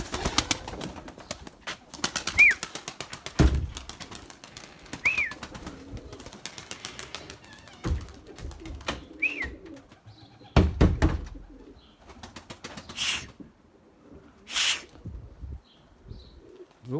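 Purebred white Erzurum breeding pigeons coo intermittently in a loft, with soft clicks, faint chirps and a brief flutter of wings spaced through quiet gaps.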